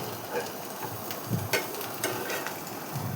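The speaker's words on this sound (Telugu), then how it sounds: "నిదానంగా ఉడికితే మంచిగా గోరు చిక్కుళ్ళు ఫ్రై అవుతున్నాయి" Cluster beans fry slowly in a pan, giving a soft, steady sizzle with occasional stirring scrapes and small clatters, close and fairly quiet with no talk.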